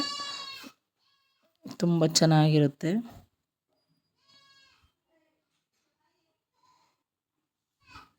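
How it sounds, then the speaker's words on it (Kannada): A goat bleats a few times in short wavering calls, with a person speaking briefly in between and quiet gaps. "ಬ್ಯಾಕ್ಗ್ರೌಂಡ್ ವಾಯ್ಸಲ್ಲಿ ಮೇಕೆ"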